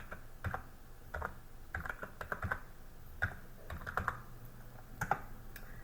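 Someone types a command on a computer keyboard in Kali Linux: quiet, close key clicks in irregular bursts and single taps, with short pauses between groups and no voices.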